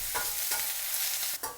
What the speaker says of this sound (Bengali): পেঁয়াজ কাঁচামরিচ দিয়ে শ্রিম্পগুলি ভাজা হবে একটু।